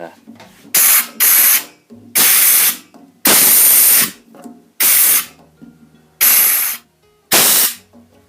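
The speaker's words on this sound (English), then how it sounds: "just going to blow this out with an airline" A fuel petcock from a Honda VF750F blown out with a workshop airline, seven loud, close bursts of hissing compressed air, each lasting about half a second to a second with short gaps between them.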